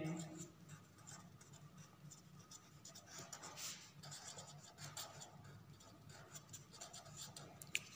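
Pen writing on paper while accounts are worked out, a faint continuous scratching of light strokes running under a person's quiet speech.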